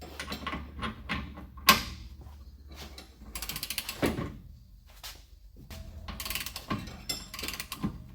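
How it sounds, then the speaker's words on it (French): A digital torque wrench set to 180 Nm tightens a wheel-bearing fastener on a car in a workshop, giving a series of close ratcheting clicks and mechanical clatter with one sharp click standing out, with no talk. "maintenant j'ai plus qu'à serrer et quand elle va claquer, le serrage sera effectué à 180 Nm"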